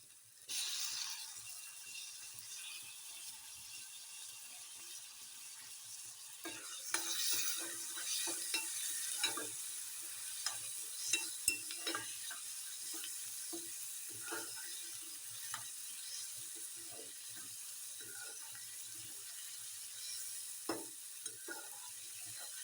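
Tomatoes dropped into a hot frying pan for a mung-bean dal dish, a soft sizzle with repeated scraping and clicking stirs, fairly quiet and near, no voices.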